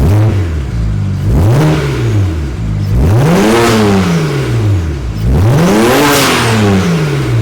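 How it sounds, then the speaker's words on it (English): A BMW car exhaust revs hard three times after warm-up, each throttle blip rising and falling between rumbling idle, loud and close. "we're gonna get a little exhaust clip for you now that she's warmed up"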